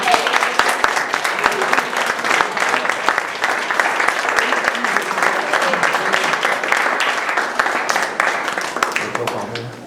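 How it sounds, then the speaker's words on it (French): A church congregation at a baptism service applauds warmly for ten seconds, a thick continuous clapping with some sharp individual claps standing out, and voices mixed in. "Applaudir notre nouveau soldat qui est Michael."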